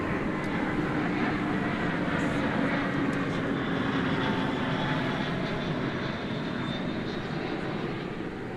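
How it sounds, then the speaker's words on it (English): An airplane touching down with a slightly bouncy landing at Dallas Fort Worth Airport, producing a steady, loud engine roar and broadband rumble that runs throughout without letup. "A little bouncy landing there, just a little bit."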